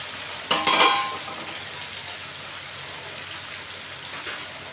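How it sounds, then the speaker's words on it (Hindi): Cauliflower florets hit hot oil with a sudden loud hiss that settles into a steady, soft frying sizzle, close up with faint utensil clinks. "अभी हम लोग तेल में डालेंगे।"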